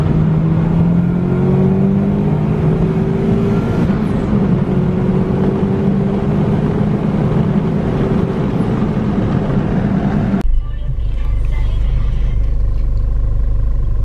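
A car with a 1JZ VVT-i engine drives along with a loud, steady engine drone and a gently rising whine as it accelerates, and road noise underneath. The sound cuts abruptly to a lower hum near the end.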